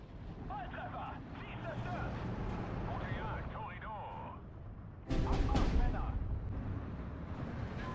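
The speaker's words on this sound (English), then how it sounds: "The artillery is hitting the Aufkladders as they run away." Artillery shells from a Steel Division 2 barrage hitting fleeing Aufklärer reconnaissance troops: a constant low battlefield rumble with overlapping distant booms, then a sudden louder cluster of impacts mid-way that keeps rolling, with a voice over it.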